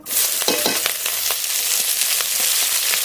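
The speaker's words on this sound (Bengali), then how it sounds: "পেঁয়াজটা একটু ভাজা ভাজা করে নেব" Loud, close sizzling of chopped onions frying in hot oil with dried chillies and panch phoron, with a few scraping stirs near the start, continuing steadily to the end.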